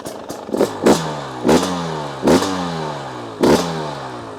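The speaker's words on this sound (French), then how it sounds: "Je peux mettre 2-3 coups de gaz" A fuel-injected enduro motorcycle, cold and idling very low, gets four sharp throttle blips, each a short, loud rev that quickly falls back to a steady idle, close by with no talking.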